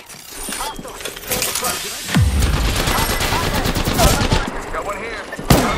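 Gunfire in the video game Apex Legends, a steady run of rapid shots and bursts lasting several seconds, loud and close, with one sharp shot standing out near the end.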